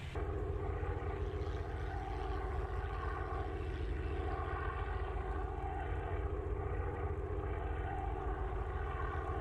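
Steady, loud drone of several propeller-driven RAF fighter aircraft engines during video game air combat, a continuous rumbling roar that holds throughout with no talking.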